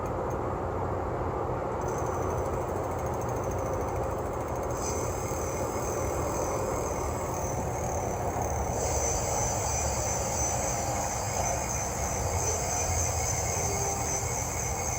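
A 1000 W rear hub motor on an ebike spins under throttle, giving a continuous electric whine with a steady hum beneath, its high tone stepping up and settling as the throttle changes, with no talking.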